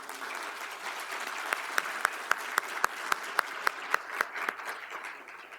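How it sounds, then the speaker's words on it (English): An audience at a climate change panel applauds the panelists, giving a soft, steady wash of clapping with a few louder, close individual claps standing out in a regular rhythm. "if we can please give a round of applause for our panelists"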